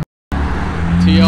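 Hyundai Genesis driving past at a cars and coffee meet, a loud close engine rush with rising tone after a brief cut, with a voice over it.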